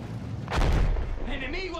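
Battlefield 1 artillery fire in a video game campaign: a deep, loud boom swells up and rumbles for about a second, then gives way to fainter battlefield noise while a voice speaks over it.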